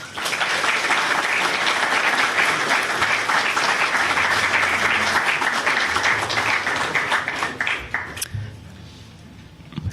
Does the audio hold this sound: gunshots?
no